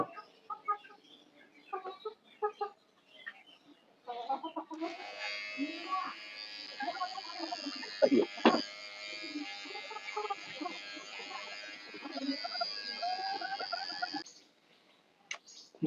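An electric hair clipper buzzes steadily through a home self haircut, a close, bright hum running for about ten seconds, framed by a person talking before and after and a brief murmur partway through.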